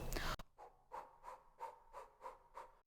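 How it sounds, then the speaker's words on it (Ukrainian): Rhythmic, forceful breaths during a Kundalini yoga cleansing exercise repeat at a quick steady pace, about one per third of a second, close and clear after a brief rustle at the start. "Дихаємо активно."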